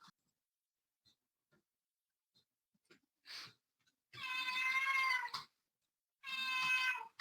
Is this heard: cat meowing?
yes